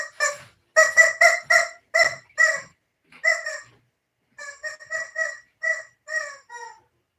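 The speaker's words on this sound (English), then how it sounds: "Yeah, therapy chicken." A chicken clucks and squawks in a close, loud series of short bursts, a rapid cluster at first, then a gap and a second string of evenly spaced clucks, with no talk over it.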